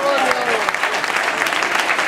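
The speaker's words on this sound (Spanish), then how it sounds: "Venga ese aplauso, claro que sí." A crowd applauds at a presentation of football players for a Celta legends versus football stars match, brisk clapping running under voices throughout.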